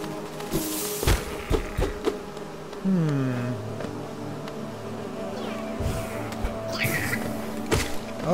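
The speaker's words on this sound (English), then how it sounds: "we're surrounded by bees" Droning buzz of bees in the Hive area of Hollow Knight, layered with gliding whines and scattered thuds and impacts from gameplay, moderately loud throughout with no talking.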